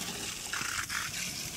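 Steady rushing of water pouring into a cleaned-out outdoor area drain, a continuous hiss with a brief gurgling surge midway, close by and alone.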